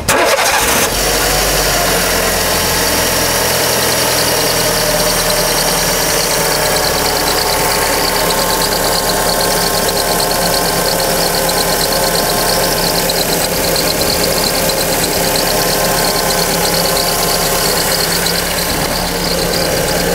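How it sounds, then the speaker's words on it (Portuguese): Fiat car with a Fire engine cranking and catching, then idling noisily and roughly with a steady clattering, knocking tone, loud and close throughout. "Esse barulhinho vem incomodando aí muitos donos de Siena, Palio, vários carros equipados aí com motores Fire."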